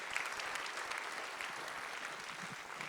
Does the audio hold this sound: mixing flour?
no